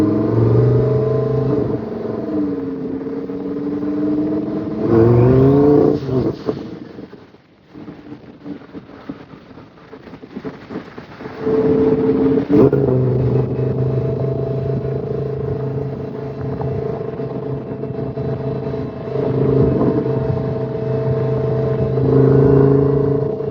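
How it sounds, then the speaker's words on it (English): A twin-turbo Lamborghini engine rumbles loudly close by on a street in Sheboygan, Wisconsin, with rising revs and harmonic engine tones, then a short dip before the steady roar returns, with wind buffeting the microphone. "I'm gonna guess it's a Lamborghini of some kind with twin turbos hanging on the back."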